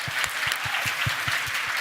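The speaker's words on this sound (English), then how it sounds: "please give yourselves a round of applause" Audience applause at a community event, a steady mass of clapping with a rhythmic pulse of synchronized claps running through it, moderately loud and free of talk.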